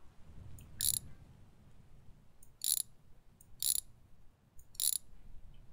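A ratchet wrench loosening a bolt on a car in the game My Garage gives four short, crisp clicking bursts spaced apart over a faint low background hum.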